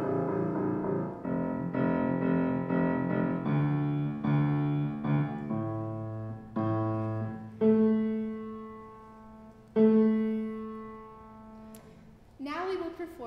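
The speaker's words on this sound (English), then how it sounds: "And a retrograde and an inversion would sound something like this." Solo piano plays a melody in retrograde inversion, a steady run of separate notes stepping down to very low tones, then higher sustained notes, ending with a short noisy sound.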